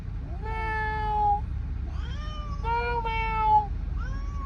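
A cat meows three times inside a truck cab, long drawn-out calls with rising and falling pitch, fairly close, over a steady low background rumble.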